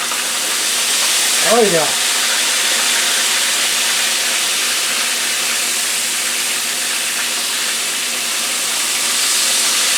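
Chicken fried steak sizzles and fries steadily in a hot pan for the whole stretch, with a brief swish as a piece is flipped early on; a short spoken remark comes over the hiss.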